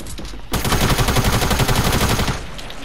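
Automatic gunfire in a Fortnite Battle Royale match, a loud sustained rapid burst lasting about two seconds after a quiet start, alone without talk.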